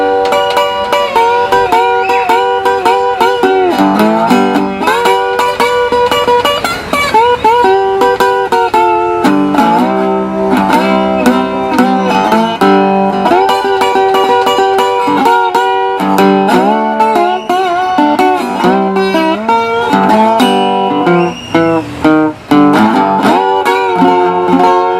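Electric slide guitar played with a glass bottleneck made from a bottle, amplified through a pickup, with gliding sustained notes and strummed chords, loud and continuous with no talking.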